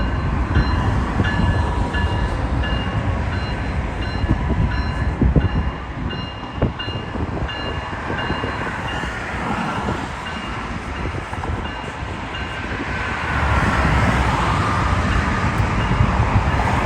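KCS locomotives reverse into intermodal sidings with a steady diesel rumble, a sustained tonal whine and occasional clanks, swelling louder near the end, close and without talk.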